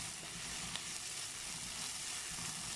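Sausages fry in oil with a steady, dense sizzle that stays close and even throughout, with no talking.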